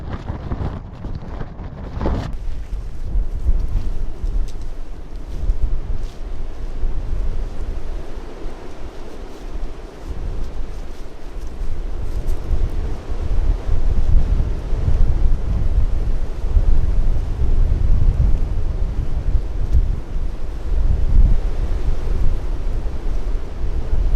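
Strong wind roars and buffets continuously against the microphone in an open field, a deep rushing rumble that never lets up, with no voices.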